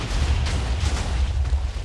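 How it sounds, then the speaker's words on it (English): Dense TNT explosions in Minecraft 1.15 merge into a loud, continuous roaring rumble, with several sharper bursts breaking through over nearly two seconds and no talk. "I'm absolutely in shock at how well the game handles TNT explosions now"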